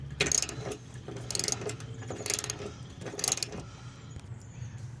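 A ratchet working 10 mm bolts off the bumper of a 2013-2016 Ford Escape 2.0L AWD, four short bursts of rapid clicking at roughly one-second intervals, close and crisp, then quieter handling.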